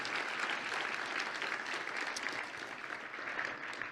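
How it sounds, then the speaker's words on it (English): Sustained, even applause fills a room at a breakfast keynote on frailty research, honouring the presenting doctors; the clapping is dense and steady, heard at a moderate distance throughout. "How about a round of applause?"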